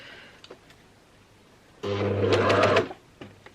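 A sewing machine stitches a waistband onto trousers in one short burst of about a second, a loud whirring run of the needle after quiet handling of fabric, with a few light clicks before and after.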